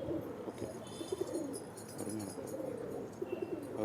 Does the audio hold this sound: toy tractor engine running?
no